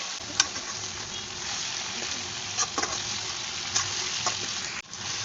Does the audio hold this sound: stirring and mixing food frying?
yes